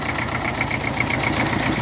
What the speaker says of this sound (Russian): Трактор агрегатирован двухцилиндровым дизельным двигателем.